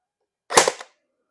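King Arms P90 battery-powered electric airsoft gun firing a single shot, one short sharp crack close by, alone in quiet.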